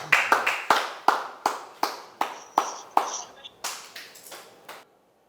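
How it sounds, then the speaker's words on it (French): A church congregation claps in unison for Jesus, about a dozen sharp, evenly spaced claps at a steady rhythm, close and clear, ending abruptly. "On acclame pour Jésus."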